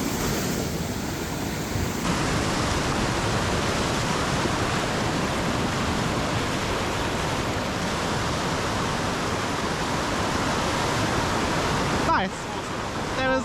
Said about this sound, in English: Main river looks a bit angry.